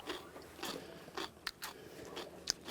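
Crisp, crunchy bites and chewing of a raw purple colored potato, several close, distinct crunches spread over a few seconds with no talking.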